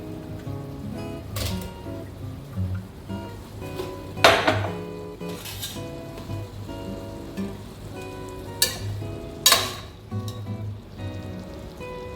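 Mutton going into a pot of curd for biryani and sizzling steadily, with several sharp clanks of a utensil against the pot standing out over the continuous frying hiss.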